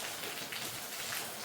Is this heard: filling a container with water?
no